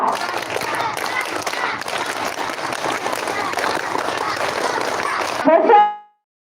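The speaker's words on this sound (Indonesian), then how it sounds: "2 kali tepuk pramuka" A group of children does the scout clap together, outdoors at a game session. The clapping is dense and continuous for several seconds, with voices mixed in, then it stops abruptly.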